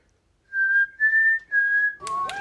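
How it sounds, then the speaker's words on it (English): Someone whistles three clear, steady notes up close, each held about half a second, then a quick breathy fourth note trails off. "that's the best I've ever whistled"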